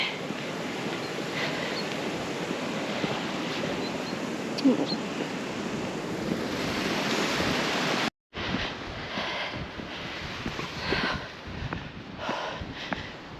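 Wind blowing across an open Lake District fell in Great Langdale, a steady broadband rush that drops out briefly, then returns gustier and slightly softer, with no talking.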